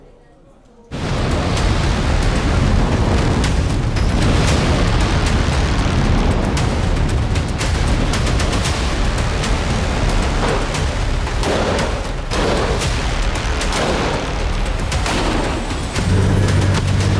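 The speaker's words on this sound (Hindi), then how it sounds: "बेंजामिन नेतन्याहू के सुपर फाइटर्स ने कतर में घुसकर ताबड़तोड़ स्ट्राइक की, हमास के टॉप जिहादियों के परखच्चे उड़ा दिए।" Missile strike explosions in Doha, Qatar: a loud, continuous roar of blasts and rumbling with repeated sharp bursts over about sixteen seconds, filling the whole scene after a brief quiet start.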